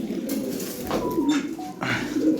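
Pigeons coo repeatedly in low, rolling calls during a pigeon delivery, close by with a steady background murmur throughout.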